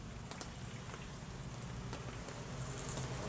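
Rain falling on a hot sunny day, a steady soft patter of drops on surfaces with a gentle hiss, continuous and fairly quiet, with no talk.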